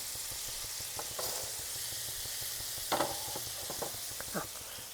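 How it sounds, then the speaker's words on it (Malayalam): Dried fish fries in a pan with a steady, fairly quiet hiss of oil, broken by a few brief spatters and soft utensil clinks. "നമ്മുടെ മീനും ഇവിടെ നന്നായിട്ട് ഫ്രൈ ആയിട്ട് വരും"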